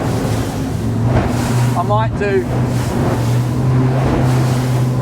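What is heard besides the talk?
speedboat with three Mercury V8 outboards on a fast run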